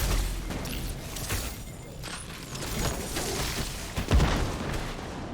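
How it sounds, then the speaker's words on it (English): Rocket blasts in Destiny 2, a series of deep booms and bursts layered over dense gunfire and action noise, with a stronger explosion near the end. "be careful blowing yourself up with a rocket"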